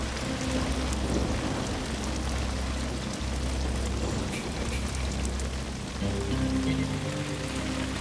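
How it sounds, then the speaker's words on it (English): Heavy rain pours down outdoors during a thunderstorm with hail, a loud unbroken roar of falling water with low rumbling underneath throughout. "I don't know if you can see that, but it's really coming down. That's huge chunks of hail."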